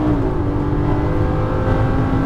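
Lamborghini Gallardo engine pulling hard under acceleration on a Las Vegas driving course, a loud, steady close-up roar with a continuous rising drone and no talk.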